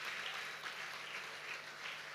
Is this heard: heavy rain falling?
no